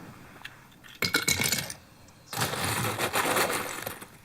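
Clattering, rattling ice cubes tumbling into a blender container for a smoothie, a first scattered pour followed by a longer, denser cascade, close and fairly loud with no talk over it.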